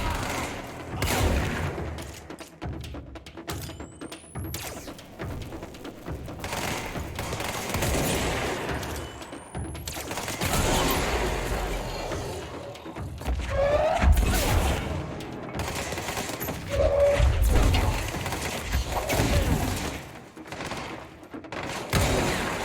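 Rapid bursts of gunfire with booming impacts and crashes fill a firefight in Control, loud and dense, with volleys rising and falling throughout.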